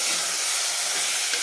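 Mutton sautéing on full heat in a pan, a steady, loud, hissing sizzle that holds evenly throughout the short moment with no talk.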